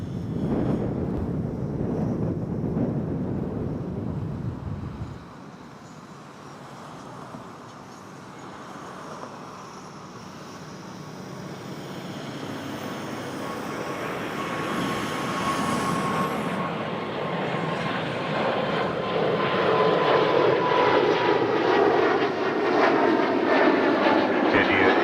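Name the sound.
Air Canada Airbus A320 taking off, bound for Ottawa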